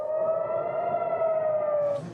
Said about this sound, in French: Ici aussi, les sirènes ont retenti.